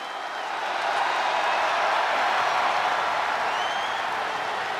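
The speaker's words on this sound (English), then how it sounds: "Listen to this ovation." A stadium crowd in the WWE 2K23 wrestling video game roars an ovation for wrestler Bianca Belair, a broad wash of cheering and applause that swells within the first second and then holds steady and loud.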